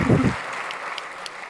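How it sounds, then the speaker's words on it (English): A conference stage audience at CES 2025 breaks into applause right after a brief spoken phrase, a soft diffuse wash of clapping that lingers for about a second. "A big kind of applause for everybody."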